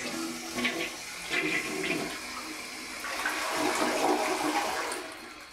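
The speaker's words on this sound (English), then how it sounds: "so flush" A newly installed toilet, set on a wax ring, flushes with a steady rush of water swirling and draining, loud and close, swelling toward the end with no talk over it.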